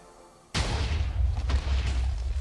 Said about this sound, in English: now we are ready to fire our TNT cannon